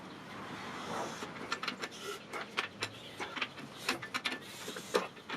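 Honda K24 engine being turned over by hand after setting the timing chain tensioner, giving a series of close mechanical clicks and ratcheting ticks in an irregular rhythm over a quiet background.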